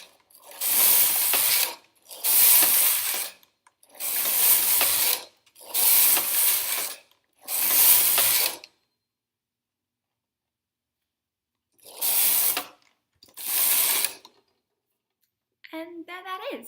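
A domestic knitting machine carriage sliding across to push the needles back, producing a loud, rhythmic run of ratcheting, clattering passes with short pauses between them, close by. A brief voice comes in at the end.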